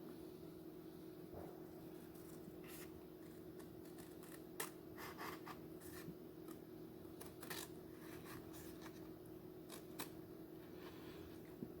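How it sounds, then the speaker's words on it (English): Sharp scissors snip through cardstock along a traced line for a DIY seed organizer, giving a string of brief crisp cuts at an irregular pace over a steady low background hum. "we're going to use scissors, because the roller is not meant to make corners like that."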